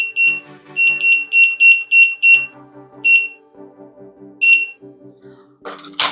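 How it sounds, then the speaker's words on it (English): Kitchen oven timer alarm for baking, sounding a run of loud, close, high-pitched beeps in quick bursts with gaps between them, ending in a brief noisy rustle. "timer for 20 minutes"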